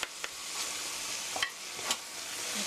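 Pork and kimchi stir-fry in a pan, a soft steady sizzle with a few sharp clicks of a utensil stirring the meat, heard close and alone.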